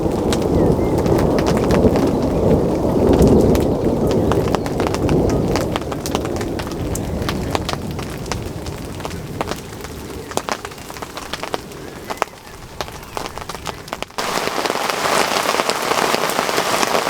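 Steady rain patters on surfaces, close and fairly loud throughout, with occasional sharper drops and faint bird sounds; no thunder stands out.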